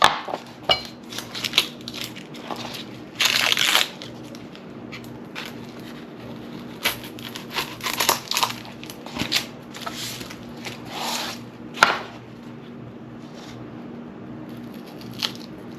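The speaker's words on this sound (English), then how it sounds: "I'll just cut your little onion." A knife cuts a small onion for Carolina reaper hot sauce, giving soft, irregular crunching and tapping strokes on a board at close range, fairly quiet.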